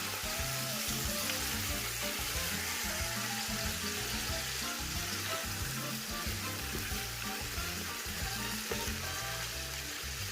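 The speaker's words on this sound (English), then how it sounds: "Add the meats to the pan and brown for about 20 minutes, mixing here and there." Meats browning in a pan for Brazilian feijoada, a dense steady sizzle with low rhythmic crackling pops throughout, close and moderately loud with no talking.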